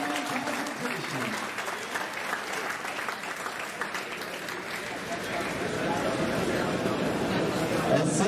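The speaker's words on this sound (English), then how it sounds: "let's give these great athletes another round of applause as they begin the tournament competition" A crowd at a U20 boys bowling tournament applauds the athletes, dense, sustained clapping that swells toward the end while an announcer's voice carries over it.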